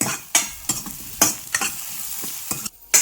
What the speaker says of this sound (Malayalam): കടുകും മുളകും വറവിടണമെങ്കിൽ വറവിടാം കേട്ടോ.